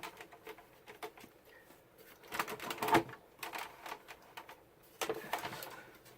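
A Cuttlebug die-cutting machine cranks pull tabs through its plate sandwich, giving irregular clicking, tapping and grinding bursts at close range with a louder crunch partway through and another toward the end, with no voices.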